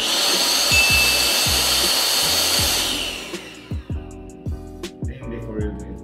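A Bosch drill runs with a loud vacuum-like Bosch GDE18V-26D dust extractor roar for about three seconds, then cuts off, leaving a few quieter mechanical clicks and thumps.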